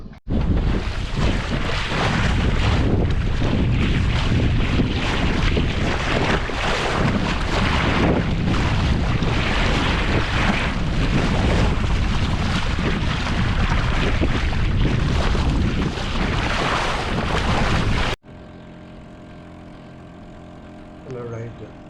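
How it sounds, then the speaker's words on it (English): Strong wind buffets the microphone over rushing water and hull noise as a sailboat sails across Rathlin Sound, loud and steady, then drops abruptly to a quieter hum near the end. "But I'm sailing across Rathlin Sound."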